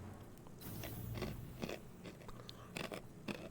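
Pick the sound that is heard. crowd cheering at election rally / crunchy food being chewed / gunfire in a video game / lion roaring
crunchy food being chewed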